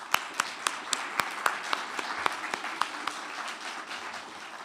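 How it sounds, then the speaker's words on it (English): A seated audience at the American Bar Association Silver Gavel Awards applauds steadily, with a moderate room of clapping and a few distinct, evenly spaced sharp claps standing out near the front. "I'd like you to join me in applauding them as well"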